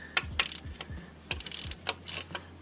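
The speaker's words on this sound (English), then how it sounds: "Let's try a swivel socket actually." Ratchet with a swivel socket clicking on a 1998 UK-spec BMW E46 during an automatic-to-manual conversion, several short bursts of clicks and metallic taps close up, no talk.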